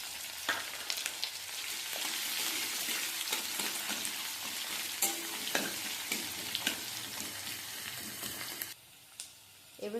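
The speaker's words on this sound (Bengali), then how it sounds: "এবারে দিয়ে দিচ্ছি লঙ্কা পেঁয়াজ কুচানো" Chopped green chillies and onion fry in oil over mustard seed and dried red chilli tempering, a dense continuous crackling sizzle with scattered pops that drops away abruptly near the end.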